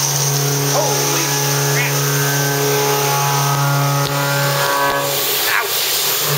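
A large boring mill machines metal with a loud, steady tonal whine and hum that hold constant throughout, while a man briefly exclaims over the noise.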